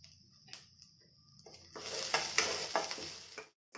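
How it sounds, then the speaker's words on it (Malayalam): Onion, ginger and curry leaves sautéing in a pan: a quiet start with a few light taps, then a rising hiss of frying with soft stirring scrapes, close and moderately loud before cutting off abruptly. "ഉള്ളിയുടെ ഇഞ്ചിയുടെ ഒക്കെ പച്ച മണം മാറുന്നത് നമുക്കൊന്ന് വഴറ്റിയെടുക്കാം."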